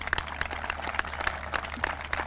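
Audience applause at a groundbreaking ceremony for a university football stadium, honoring football coach Carl Torbush, heard as steady, moderately distant clapping with sharp individual claps repeating through the whole stretch.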